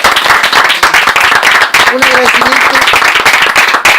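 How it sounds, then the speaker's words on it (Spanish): An audience applauds author Carlos Basso at a book talk, with dense clapping running throughout under someone speaking clearly over it. "Demos un gran aplauso a Carlos Basso, entonces."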